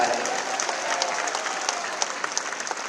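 A crowd at a Hindu religious discourse applauds steadily, dense clapping holding at an even level throughout with no lulls, a few sharper claps standing out near the end.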